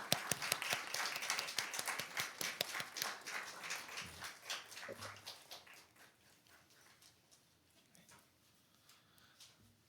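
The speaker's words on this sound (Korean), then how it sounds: "우리 수료증과 선물할 때 박수 한번 쳐주시면 합니다." A church youth congregation claps during a certificate and gift presentation: many hands beating quickly and loudly at first, then thinning into scattered claps that fade away over the last few seconds.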